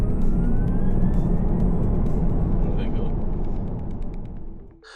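A Tesla Model Y Performance electric car accelerates hard from 0 to 60, heard as a loud, steady broadband road and wind roar that fades toward the end.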